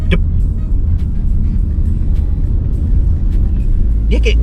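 A Citroën C3 Aircross seven-seat SUV rolls over paving blocks, giving a steady, loud low rumble of tyres and cabin noise throughout, with a brief voice near the end.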